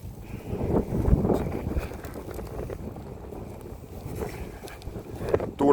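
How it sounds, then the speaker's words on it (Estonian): A gust of wind buffets the microphone outdoors while small chainsaws are being compared for cutting branches, a low rumbling roar that swells and fades, rising again sharply at the end. "tuulepuhang tuli."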